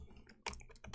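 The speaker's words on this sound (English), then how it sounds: "I hate it when they start typing to me." Quiet, close computer keyboard typing: a short burst of clicky keystrokes in quick, uneven succession, heard alone.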